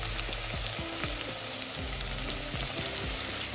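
Sliced onions fry in hot oil for a beef keema with potatoes and peas, a constant fine crackling sizzle running evenly beneath low repeated electronic tones.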